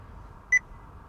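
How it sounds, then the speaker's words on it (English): One short, clean electronic beep from a cheap Chinese Android car stereo head unit in a 2008 Porsche Cayman S, over a faint steady hum in an otherwise quiet space. "Ooh, it beeps. That's a good sign"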